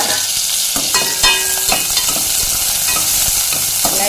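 Tomato, green chili, garlic and thin-cut ginger sauté in a pan for a vegetable soup base, with a steady close sizzle and repeated scraping stirs of a spoon against the pan.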